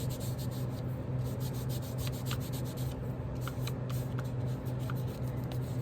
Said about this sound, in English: Rub the excess glue off that back because I don't want to glue it down.